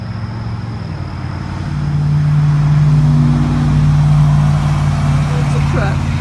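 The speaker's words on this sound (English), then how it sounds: "I hear a car coming, so let's let this car come by first." A truck on a road passes close by, its engine rumble swelling over a couple of seconds and holding loud before easing slightly, with no talk over it.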